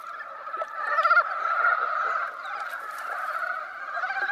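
A frog calls in a shadowy Asian forest, giving a steady trilling, croaking chorus that is fairly close and fills the whole stretch, with brief louder pulses near the start and end and no talk.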